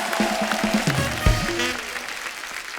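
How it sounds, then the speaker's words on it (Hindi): Studio audience clapping on a comedy talk show, a steady wash of applause mixed with music and a few voices, loud and close, tapering slightly toward the end. "जोरदार तालियां।"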